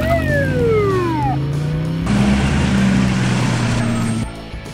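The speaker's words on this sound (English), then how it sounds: "Police cruiser!" A police cruiser with its siren wailing as it passes, the falling siren tone giving way to a loud, steady engine roar and a rushing drive-by that fades at the end.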